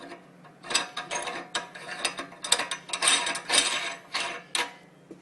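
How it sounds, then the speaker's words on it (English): A locking ring is screwed onto a meat grinder by hand, giving close, rapid clicking and ratcheting bursts of metal and plastic over about five seconds with no talk. "Finally, put on your locking ring."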